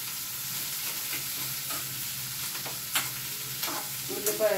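Onions fry in a pan for a ridge gourd and moong dal curry, giving a steady, moderate sizzle with occasional scrapes and light taps of a stirring utensil.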